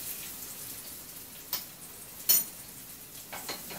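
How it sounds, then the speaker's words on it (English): A brown spoon stirs chopped onions in a pan, giving a few soft scrapes and a couple of sharper clinks against quiet kitchen background. "you're going to stir it up a little bit with the spoon"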